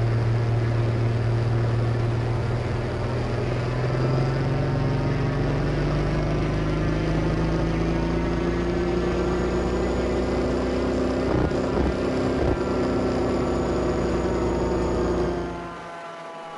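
Raptor prototype aircraft engine and propeller running up at a steady high, loud drone with strong harmonic tones, set to flat pitch near the rev limiter, with a few brief stutters near the end before the engine winds down.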